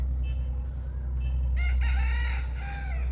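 A rooster crows once in a long, wavering cry over a steady low rumble, with a shorter clucking call before it.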